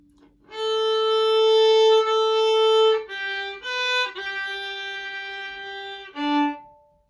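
A solo violin plays a short, smooth melodic phrase of several sustained notes, clear and close, with no talking.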